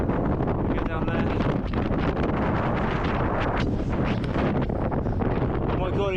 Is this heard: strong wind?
yes